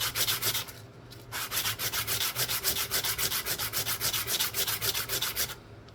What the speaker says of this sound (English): This is very fine sandpaper.